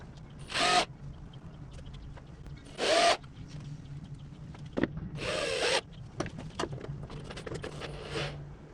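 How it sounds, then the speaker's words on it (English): A power drill drives into wood while a DIY worm motel is built for a raised garden bed: two short whirring bursts, then a longer grinding run and scattered handling knocks, close and moderately loud. "Turn your drill sideways so you can go at a straight angle."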